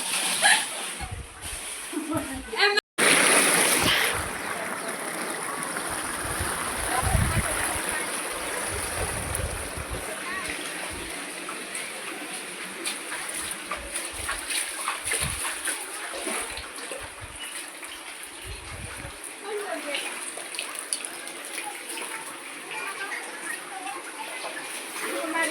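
Floodwater flows through the streets of Vaghnagar village, a constant broad rushing wash with occasional splashes and voices speaking over it, plus a sharp knock early on.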